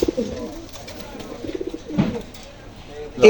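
A pair of golden pigeons, male and female, cooing in soft low repeated phrases, close by, with someone talking intermittently over them.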